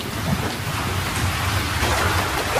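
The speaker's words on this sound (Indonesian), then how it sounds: "Hujan badai petir." Steady, loud downpour of a thunderstorm in the Sakura School Simulator video game, with low thunder rolling beneath the hiss of heavy rain throughout.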